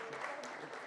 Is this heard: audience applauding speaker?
yes